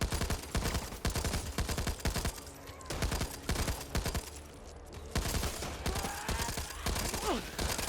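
Rapid, continuous bursts of LMG machine-gun fire in the shooter game Back 4 Blood, loud and close, with brief pauses between strings of shots and faint game effects underneath.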